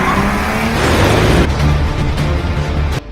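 A car in a Korean crime film swings through a U-turn, its engine loud and close with a whooshing, tire-scrubbing sweep that fades over a few seconds, with a brief drop in sound near the end.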